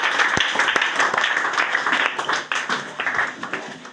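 A congregation at a prayer meeting applauding: steady, dense clapping from many hands throughout, with voices mixed in under it.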